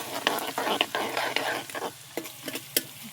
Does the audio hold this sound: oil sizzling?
yes